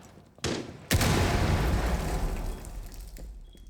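A flashbang thrown in the Rainbow Six Siege game: a sharp crack followed by a loud blast that rings out and slowly decays, close and alone without talk.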